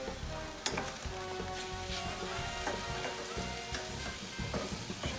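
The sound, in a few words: stirring sizzling chipotle chicken in a pan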